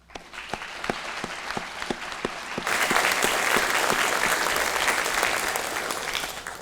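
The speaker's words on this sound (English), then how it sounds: "They owe a round of applause from you for their hard work" At a fire academy graduation, a few scattered hand claps come first, then the full audience breaks into sustained, dense applause for the Class 5 recruits, filling the hall fairly loudly to the end.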